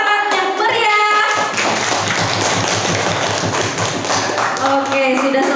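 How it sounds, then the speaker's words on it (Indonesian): A classroom audience claps after a group presentation: dense, continuous clapping that fills the room throughout, with voices and some tonal sound mixed in at the start and end. "Berikan tepuk tangan yang meriah."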